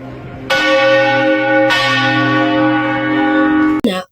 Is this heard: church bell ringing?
yes